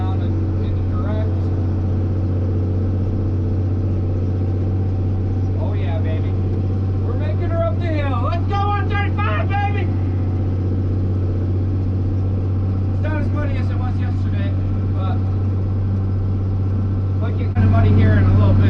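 Farm tractor engine running steadily at about 2,000 RPM in a freestall barn, a loud constant low drone with a voice talking over it at intervals.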